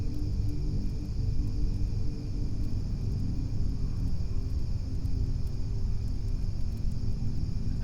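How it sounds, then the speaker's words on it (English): A deep, continuous low rumble of thunder rolls on steadily without pause, heavy in the low end with no voices. "that rumbling thunder, how that storm seems to be weakening"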